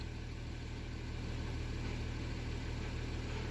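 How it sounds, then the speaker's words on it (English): An Audi/VW engine idles in a steady, even drone with a constant low hum, heard close and without a break. "switch on the engine"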